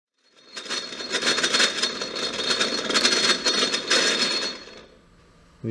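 A metal lathe runs in back gear while cutting an arbor, giving a loud, dense whine and chatter that swells and holds steady for several seconds, then drops away.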